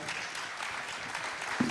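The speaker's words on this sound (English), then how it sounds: "let's applaud them" Brief, steady burst of audience applause at a regional business summit, a dense even wash of clapping from a seated crowd, sustained without pause.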